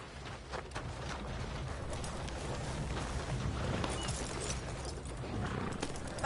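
Horse hooves in Red Dead Redemption 2, faint rhythmic clopping of a ridden horse under a low ambient outdoor rumble, steady and fairly distant.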